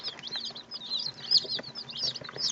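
Young Old English game bantam chicks cheep in a steady, overlapping chorus of high, thin peeps, close by and fairly busy throughout, with no talking.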